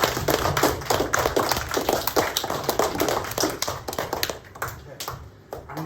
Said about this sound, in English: So can we give a big clap and a big cheer as well for Mum and